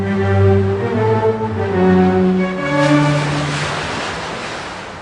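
Open-sea waves surge and wash continuously, mixed with wind and a low droning hum, loud and close with no speech.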